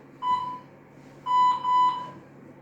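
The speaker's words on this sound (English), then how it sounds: "Okay, when the buzzer tells us." A workout interval timer beeps three times in a HIIT exercise session, one short tone and then two longer ones close together, clear against a quiet room.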